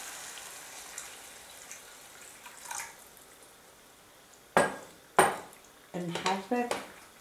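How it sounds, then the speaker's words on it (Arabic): Water is poured into a pot where chicken is frying with beans. Faint sizzling comes first, then several sharp, loud bursts of spattering and hissing arrive close by in quick succession. "نصب شوية ماء،"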